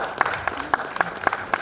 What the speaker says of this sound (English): A huge round of applause to Ashok Hatti.